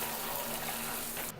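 Water gurgles and rushes as it backs up in a slow-draining shower drain: a brief, steady watery hiss heard close, ending abruptly.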